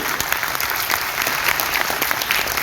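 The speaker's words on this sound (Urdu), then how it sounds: "اتنی بڑی شخصیت کے لیے زوردار تالیاں بجائیے" Loud, dense audience applause fills a condolence meeting for Balqis Edhi at the Arts Council in Karachi, a continuous close-up roar of many hands clapping with no talking.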